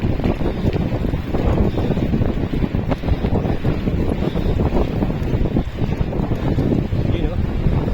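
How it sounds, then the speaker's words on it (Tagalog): Strong wind at sea buffets a boat off Tablas, Romblon, a steady loud roar of gusts over the mic with engine and water noise beneath and voices calling out now and then. "Napakalakas yung hangin."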